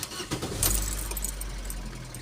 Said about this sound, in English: I should start the car